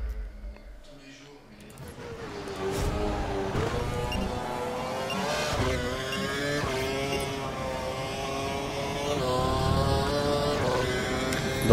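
An F1 car in the F1 2012 racing game leaves the pits on new soft tyres at Interlagos in Brazil, its high-revving engine whining steadily and rising through the gears, loud and close.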